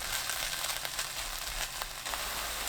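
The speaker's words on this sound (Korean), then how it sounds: "지글지글 소리나기 시작하면 그때부터 1분 더 볶으시면 돼요." Dried vegetables sizzling steadily as they are stir-fried in a hot pan, a continuous close crackle with faint scraping stirs.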